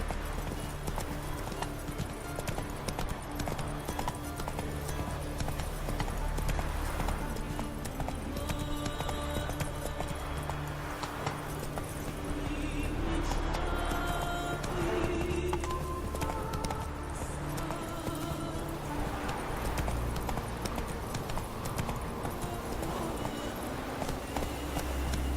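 Hooves of Roach, Geralt's horse in the video game The Witcher 3, pound in a steady galloping clip-clop rhythm throughout, close and continuous under music and ambient game sound.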